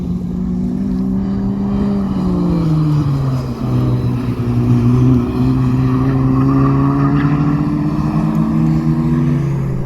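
A race car engine, heard from inside the car, climbs and drops through the gears, then pulls hard after third gear on a corner exit at Blyton Park. The engine drone is loud and continuous, with no talking.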